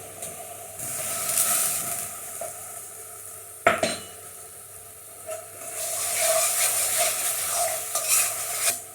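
A chopped medium tomato goes into a curry base for chicken phall frying in a pan and is stirred through: a steady close sizzle with spoon scrapes and one sharp metallic clatter midway, no talking.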